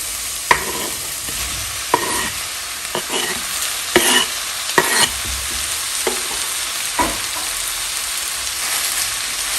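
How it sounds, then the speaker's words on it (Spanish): Longaniza sausage fries in a pan with a constant close sizzle, broken by several clattering stirs of a utensil, and no voices. "que la longaniza empiece a freírse, que empiece a sacar esa grasita"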